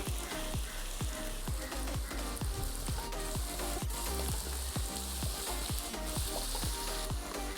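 Crushed onion and garlic fry in a hot pan for a fish head curry, giving a steady, dense sizzle with a regular low thumping beat underneath throughout.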